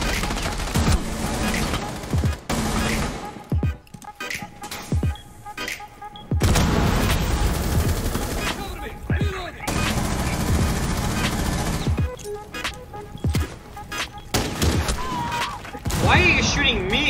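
Gunfire in the Rainbow Six Siege video game, with loud bursts of rapid automatic fire and single shots in several clusters separated by brief lulls, mixed with game sounds and voices talking over it.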